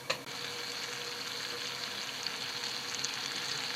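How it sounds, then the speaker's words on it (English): Vinegar heating in a pot for Japanese sweet and sour turnip pickles makes a constant, even hiss from start to finish, with a single brief clank at the very beginning. "What we're doing is heating the vinegar to reduce the sourness."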